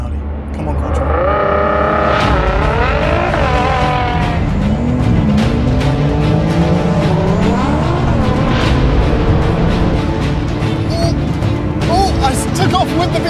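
A BMW M4, Audi RS5 and Nissan GTR launch together in a drag race, engines roaring loudly and rising in pitch through gear changes, with tire noise and excited voices over the din.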